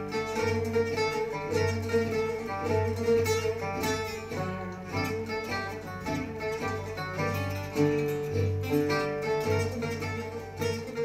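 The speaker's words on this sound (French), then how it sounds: "C'est le son du jazz manouche qui puise ses racines aux États-Unis et naît à Paris dans les années" Bahraini gypsy jazz, a jazz manouche style blending Arab music with swing and funk, plays steadily at moderate loudness, with a rhythmic low pulse under layered melodic instruments and no talking.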